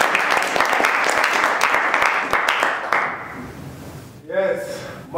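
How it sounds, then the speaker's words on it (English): Studio audience clapping at a comedy show, a dense burst of applause that fades out after about three seconds, followed by a voice calling out. "You have to clap your hands one more time."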